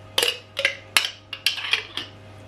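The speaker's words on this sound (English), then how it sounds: "3 tablespoons of mayonnaise. Into a clean bowl, a clean mixing bowl." Spoonfuls of mayonnaise going into a clean mixing bowl for deviled eggs, a series of about eight sharp clinks of spoon against bowl in an irregular rhythm, close and clear.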